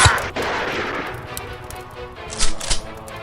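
Gunfire in a World War II–style radio drama battle scene: a dense burst of shots opens the moment, followed by scattered cracks and a pair of louder reports near the end, fairly close and loud.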